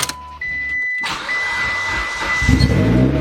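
A Mitsubishi Lancer Evo cranks and fires up close by after a brief electronic tone, settling into a loud, steady idle with a rising rumble toward the end.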